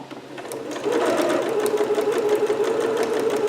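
A sewing machine stitches through several fabric layers at a corner seam of a Vogue 8280 garment, its motor settling into a steady, close, rapid mechanical whir after a brief lighter start.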